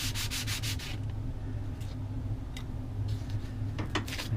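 Sandpaper rubs back and forth on a reed in short raspy strokes, close and moderately loud, with soft tapping and faint background hum.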